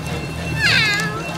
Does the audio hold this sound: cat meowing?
yes